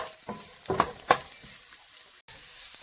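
Chopped garlic sizzling in a little oil in a hot pan, a steady bright frying hiss with a few soft stirring scrapes and clicks, close and fairly quiet.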